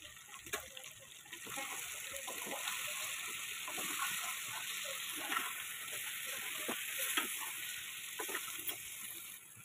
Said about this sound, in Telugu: ఇందులో నేను కొద్దిగా వాటర్ వేసుకుంటున్నాను. కొద్దిగా 1/2 గ్లాసు వాటర్ వేసుకున్నాను.